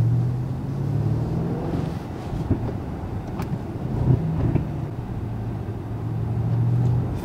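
A 2019 Mercedes-Benz S 560 Coupe with a 470-horsepower V8 and 4MATIC all-wheel drive cruising on a rainy day, a steady low engine hum and road rumble heard from inside the cabin, moderately loud and even.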